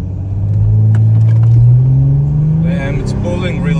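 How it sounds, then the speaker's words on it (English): A Mercedes E320 CDI with an OM642 engine, Stage 3 tune and hybrid turbo accelerates hard from standstill, a deep rising engine drone climbing steadily in pitch, heard loud and close from inside the car. "we'll test it, how acceleration goes from 0 to 100"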